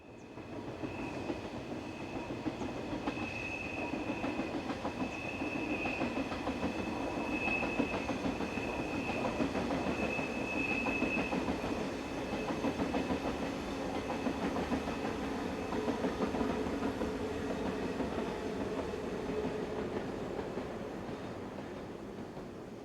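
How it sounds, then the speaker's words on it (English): ÖBB class 1116 locomotive hauling a railjet bound for Vienna on the Semmering Pass, a sustained moderate rumble with a faint high whine, steady throughout and fading slightly at the end. "it wasn't long before 11:16-254 made an appearance on this railjet service bound for Vienna"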